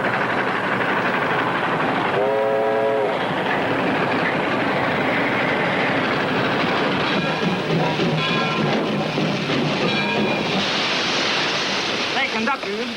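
A train rumbles steadily along the tracks in a 1937 film, loud and continuous, with a brief whistle-like tone early on and muffled voices over the noise.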